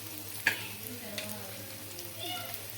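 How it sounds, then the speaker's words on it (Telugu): Egg masala curry with chilli powder, coriander powder, garam masala and salt frying in a pan, giving a quiet, steady sizzle with faint stirring scrapes and a brief clack near the start. "ఈ మసాలా అన్ని బాగా ఒక రెండు నిమిషాలు అయితే బాగా ఫ్రై చేసుకోవాలి"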